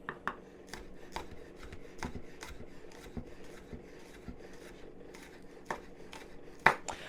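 A knife slices green onions on a cutting board. The cuts are quiet, close, crisp taps in an uneven but steady rhythm, with one sharper knock near the end and no talking.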